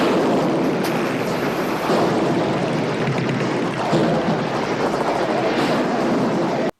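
A helicopter pursues a motorcycle in the film The Gauntlet, a continuous loud rotor and engine roar mixed with wind and rumble, steady throughout with no voices.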